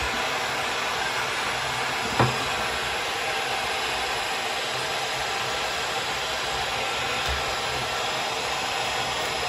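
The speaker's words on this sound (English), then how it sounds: "a heat gun just there, just to help that melt" A heat gun set to 400 blows a constant, loud broadband whoosh over resin to melt and shape it. The blowing is steady throughout, with one brief knock partway through and no speech.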